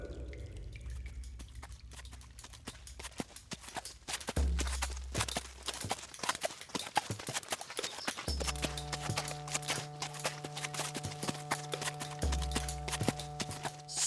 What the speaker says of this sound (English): I assume you'll be able to keep pace with my horse's trot.